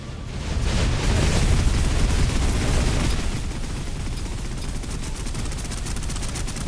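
Dense, continuous gunfire from the sci-fi shooter Snowbreak, a loud sustained barrage of rapid shots that eases slightly in its second half but keeps going to the end.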